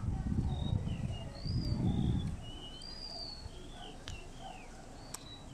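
Birds call from the trees after rain with bright, repeated chirps and short whistled notes, fairly faint and scattered. A person talks quietly beneath them for the first couple of seconds.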